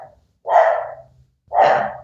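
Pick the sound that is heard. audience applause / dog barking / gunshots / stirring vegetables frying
dog barking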